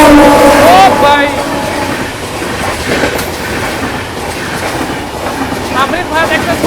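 The Vijayawada–Lingampalli Intercity Express rushes past close by on an Indian railway line while overtaking the Amrit Bharat Express, with a loud, steady roar of wheels and clattering carriages, a brief squeal, and a voice faintly heard near the start.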